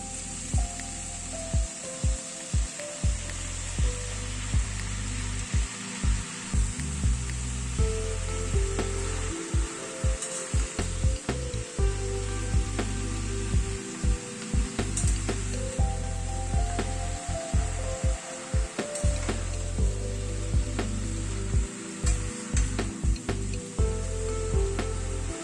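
Cabbage frying in a pan with spices and kasuri methi over a gas flame, a continuous sizzle with repeated scraping and stirring knocks throughout.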